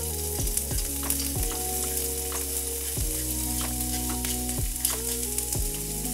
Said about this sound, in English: So first I cooked the onion and the green onion a little bit so there isn't that much of the flavor